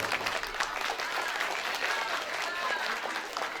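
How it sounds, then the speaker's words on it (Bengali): An audience at a karate demonstration breaks into steady, dense applause for Sir Paritosh Banik, many hands clapping together without pause at moderate distance. "আমি পরিতোষ বণিকের জন্য একবার হাততালি দেওয়ার জন্য অনুরোধ করব"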